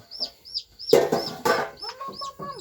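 Chickens cluck repeatedly in short calls, loud and close, at a rural home, with the clucks carrying on alone and a louder burst of squawking flapping in the middle.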